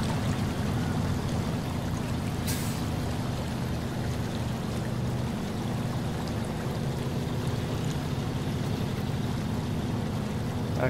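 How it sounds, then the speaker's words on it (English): A steady, unbroken rush of falling water from a waterfall in the truck-driving game SnowRunner, a dense wash of noise with no speech. "Listen to the soothing sounds of the waterfall."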